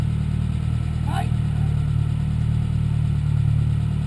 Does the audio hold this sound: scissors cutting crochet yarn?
no